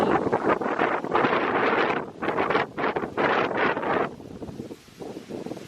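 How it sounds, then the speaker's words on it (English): Icy cold wind gusts through a cottage garden, buffeting the microphone in loud roaring bursts that rise and break off repeatedly, then ease into a quieter rustle. "you can hear and see those gusts of winds we're getting today"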